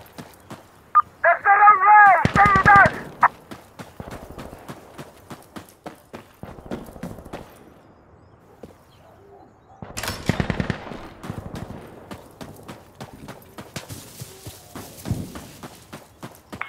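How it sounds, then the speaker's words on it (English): An MG3 machine gun firing in the Insurgency Sandstorm video game: several bursts of rapid, loud automatic fire, the longest near the start, mixed with scattered single shots and distant gunfire in a busy battle. "Fire with the MG3 hurts, man."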